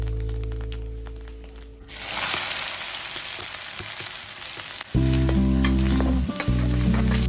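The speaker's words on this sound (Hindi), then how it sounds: "तो अब हम इसमें जख्या डालेंगे।" Jakhya seeds hit hot oil in a kadai and burst into a bright, crackling sizzle that carries on steadily, with a low mechanical hum underneath at the start and again near the end.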